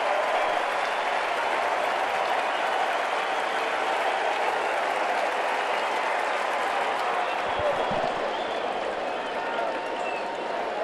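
A stadium crowd at a Dodgers versus Nationals baseball game claps and cheers in a steady, sustained wash of applause, with some fans standing, lasting throughout at even loudness.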